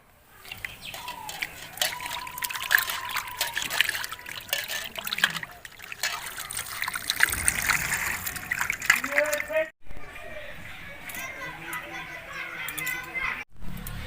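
Cut catla fish is rinsed under running water, with an uneven trickle and splashing over several seconds while a voice talks intermittently.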